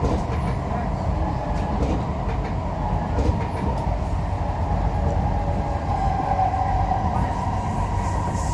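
An East-West Line MRT train pulls away from Buona Vista station, its steady loud rumble and rail noise running continuously without a break.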